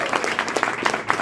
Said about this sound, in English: round of applause for him